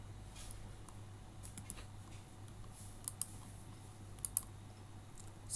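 Typing a value into Scratch on a computer keyboard, faint scattered key clicks in small clusters over low steady room hum, with a few sharper taps standing out near the middle and end.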